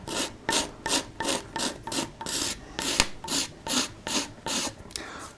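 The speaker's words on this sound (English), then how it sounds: "it's really worth running over a carving with the scraper first, because that removes wood in such a pleasant way and without any dust" A woodcarver's scraper is pulled over a wooden carving in about a dozen rhythmic, evenly spaced rasping strokes, close and fairly loud, with no talking.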